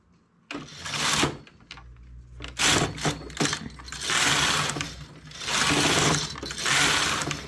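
A knitting machine runs a test stitch in repeated carriage passes, each a loud mechanical whir and clatter lasting about a second or more, close by with brief pauses between strokes.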